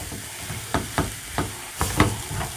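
Washed onions hit a hot pan and sizzle steadily while being stirred, with a constant frying hiss broken by several sharp scraping and stirring bursts, close up and with no talking.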